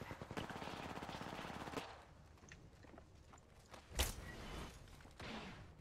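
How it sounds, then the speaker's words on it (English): Rapid automatic gunfire in a PC shooter played with friends, a fast rattling burst for about two seconds followed by a few sharper isolated shots and faint movement sounds, fairly quiet overall. "Getting shot at."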